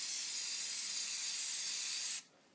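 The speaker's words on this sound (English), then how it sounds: "I got my can, I spray it up, and I'm just going to aim down right where my finger is there" A spray can hisses steadily for about two seconds, applying weathering paint to a model freight car, then cuts off abruptly, close and with no talking.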